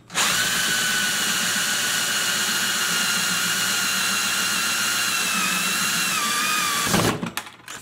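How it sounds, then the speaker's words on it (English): A power drill fitted with a hole saw with a pilot guide bores through a plastic panel, a loud, steady high-pitched whine holding for about seven seconds before winding down abruptly. "I'm just going to start drilling."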